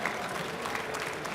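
Audience applause at Paris Games Week 2015, a short burst of dense clapping from a crowd, fairly loud and steady, with faint voices mixed in.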